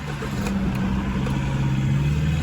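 A Jaguar XF 2.2 diesel runs with a steady mid-pitched engine drone and a faint rising note near the start, close and fairly loud, with no talking.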